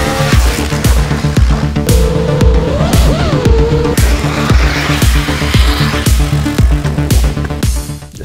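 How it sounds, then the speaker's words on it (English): Loud, rhythmic exhaust blasts from a 2022 KTM RC 390 motorcycle with a new exhaust system, pulsing about twice a second with a rising whine in the middle, close and dominant. "a brand new exhaust system, which sounds like this."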